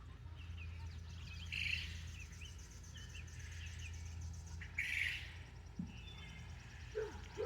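Ducklings and adult ducks call faintly back and forth in a quiet outdoor setting, with two brief bursts of high peeping standing out over a low steady background hum.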